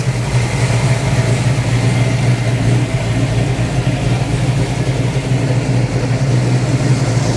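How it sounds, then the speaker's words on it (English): A 1973 Dodge Challenger Rally 340 V8 idles steadily and evenly, a loud, smooth low rumble with a constant hum, close by and alone with no talk throughout. "this 340 sounds healthy. Runs loud from the back and quiet from the front."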